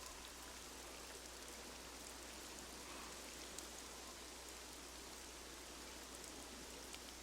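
Rain falling in the video game SCUM, a steady dense hiss of rainfall with faint scattered droplet ticks throughout, even and continuous with no talking.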